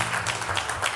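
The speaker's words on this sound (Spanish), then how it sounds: "Si quieren, nos aplaudimos al final" A short burst of audience applause at a symposium, steady and fairly dense, with many hands clapping at once in a reverberant room.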